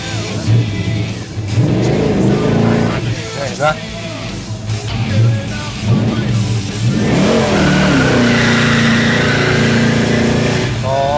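Car engine revving hard and launching with a tire burnout and squeal at a race event, loud and close, while people talk over it.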